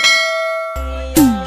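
A bright chiming bell rings out, followed by a short whooshing swish and a second ding, like an on-screen notification sound effect.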